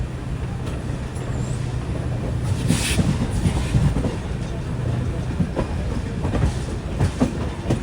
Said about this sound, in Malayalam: 2-ാം നമ്പർ പ്ലാറ്റ്ഫോമിലേക്കാണ് ട്രെയിൻ വന്നത്.